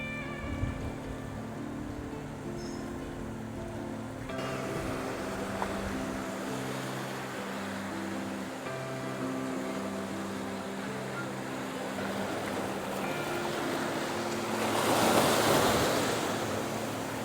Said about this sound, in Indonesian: ini suasana siangnya seperti ini teman-teman di Pantai Cikumerasa